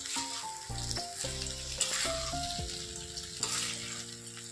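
Cauliflower fried rice is stirred in a hot pan, with loud steady sizzling and scraping strokes of a spatula, close by and without talk.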